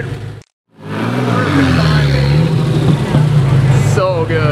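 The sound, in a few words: Porsche Carrera GT engine revving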